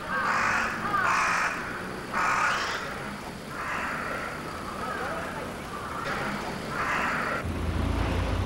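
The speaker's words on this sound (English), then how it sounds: "We are dealing with crows, which are very clever birds." Japanese crows cawing in repeated harsh bursts near a utility power line, several calls in sequence with steady traffic hum beneath.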